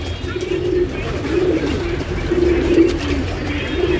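Tournament racing pigeons in a Bangalore loft coo repeatedly at close range, giving soft, throaty, rolling calls that rise and fall over a low background hum.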